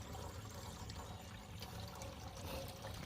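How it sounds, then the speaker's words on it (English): Water trickles and pours through a Sawyer water filter into a container outdoors on a kayaking trip, a faint, steady liquid flow with no talking. "this is a Sawyer water filter"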